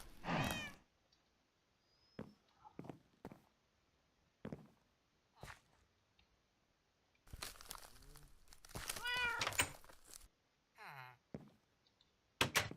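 A Minecraft cat meows in-game, several short close meows and a longer chirpy cry among scattered clicks and footsteps, with a voice speaking briefly.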